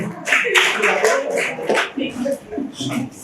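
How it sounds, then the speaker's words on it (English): Audience clapping for a woman at a ninth anniversary event, scattered and uneven claps mixed with loud talking and voices throughout. "Clap for her."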